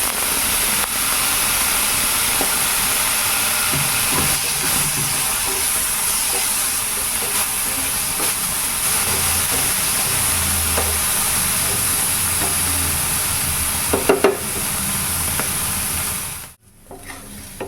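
Cooked cowpeas tipped into a hot pan for a Kerala thoran sizzle and hiss steadily and loudly, a continuous frying crackle with light stirring scrapes, ending abruptly.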